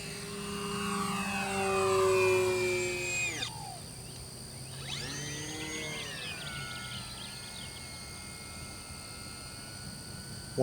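A Kavan Alpha 1500 RC model plane flies under electric power, its motor giving a steady whine. The pitch sweeps down sharply as the plane passes by, then rises and falls again as it makes a second pass.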